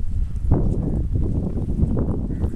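A pack-laden donkey's hooves clop along a path near an old bridge at Kot Pindi Das in Punjab, a close, steady shuffle of hoof steps with no talk.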